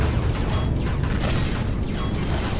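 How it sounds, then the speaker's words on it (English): A large explosion slams against a ship's shields in the space game Empyrion Galactic Survival, heard as a dense, continuous crackling roar with repeated bursts layered over a low rumble. "that was a big explosion on my shields"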